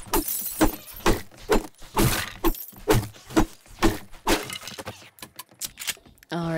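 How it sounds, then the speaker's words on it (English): Glass doors shattering in the zombie survival game 7 Days to Die, a burst of repeated loud smashing and breaking impacts in quick succession, with someone talking over parts of it. "I'm just going to smash one of the glass doors here."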